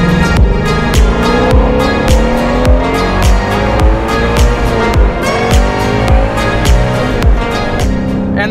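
A Shelby GT500 Super Snake cruising on a busy freeway near Palm Springs, its engine a steady, loud drone with rhythmic road thumps and passing traffic throughout, no voices.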